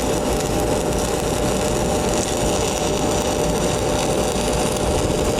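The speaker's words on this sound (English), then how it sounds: "Starting our third weld, scratch start." A stick welding (SMAW) arc on a third weld after a scratch start, a steady dense crackle and sizzle running continuously and loud without pause, with no talk over it.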